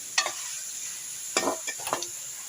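Goat liver frying in oil gives a faint, steady sizzle, with a few brief scraping strokes as it is stirred in the pan, close and quiet with no voices.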